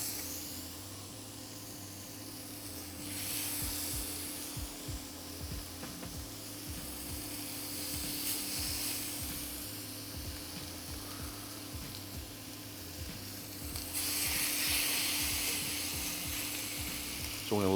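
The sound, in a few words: chicken thighs searing skin-down in a pan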